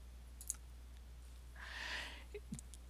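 A computer mouse gives a single quick, close click, then a couple of faint, soft taps follow a short rustle, all quiet against a low steady hum.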